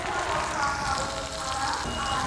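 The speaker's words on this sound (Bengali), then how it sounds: "মশলাটা আমি ভালো করে কষে নেবো।" Ground spices with Kashmiri red chili powder fry in a pan for a vegetarian ghugni, a steady close sizzle and crackle, fairly loud and continuous, with faint stirring.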